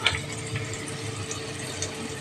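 Water poured into a pan of fish curry masala made with red chilli powder, a steady close pour with a soft splashy hiss running the whole time, no voices.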